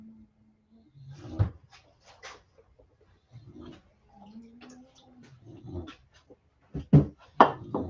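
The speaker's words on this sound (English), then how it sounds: "I've got 2 fat dogs that are just always ruining the sound in my videos" Two heavyset dogs move around a room indoors, making scattered thumps, knocks, claw clicks and panting in irregular bursts, close and fairly loud, with no talk.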